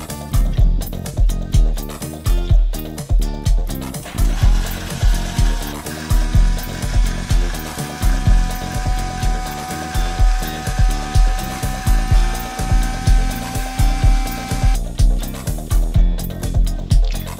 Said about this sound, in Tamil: இப்போ ஒரு பிளெண்டரில் வந்து கேரட்டை சேர்த்து அரைச்சிக்கலாம்.